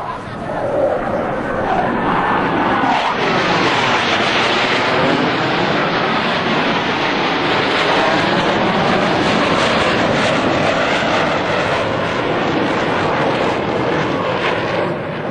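US Navy Blue Angels jets at the 2003 New York International Airshow, six aircraft converging over center point, make a loud, sustained roar that swells and sweeps as they pass overhead.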